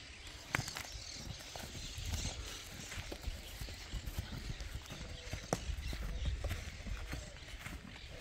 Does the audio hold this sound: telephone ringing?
no